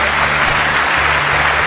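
Audience applause at the 2019 Real Gaindés ceremony in the Greater Toronto Area, welcoming kora player Sadio Sissoko: dense, steady clapping from a crowd, sustained and fairly loud throughout with no talk.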